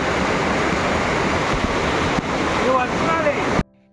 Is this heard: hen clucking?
no